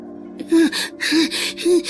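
A person gasps and pants, out of breath after running: three loud, close, rasping breaths in quick succession, each with a voiced catch, and no talking between them.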